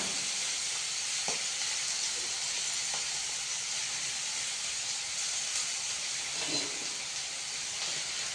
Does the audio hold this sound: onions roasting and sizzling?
yes